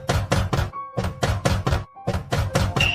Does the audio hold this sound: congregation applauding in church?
no